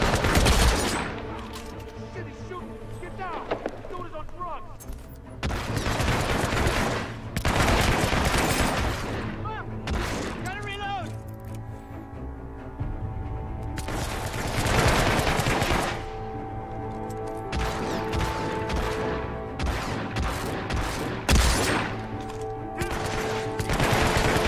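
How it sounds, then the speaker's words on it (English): Rapid automatic gunfire from the video game Hitman Absolution, loud sustained bursts and fusillades with brief pauses between volleys, continuing throughout with some booming impacts. "Shooting."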